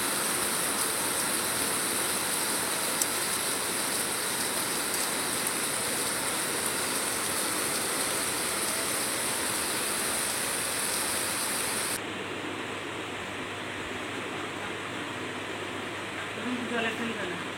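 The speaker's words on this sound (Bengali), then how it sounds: "বৃষ্টির যে ফোঁটা পড়ছে" Rain falls steadily onto a road beside a pond, a dense continuous hiss that stays close and even throughout, thinning slightly in the last few seconds.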